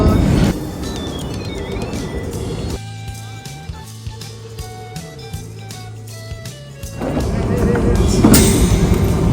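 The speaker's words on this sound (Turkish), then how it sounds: "tren geliyor." A train pulls into a station in Paris, its loud rumbling and wheel noise rising over the platform, then easing into quieter hum and brakes before rumbling again; people talk nearby.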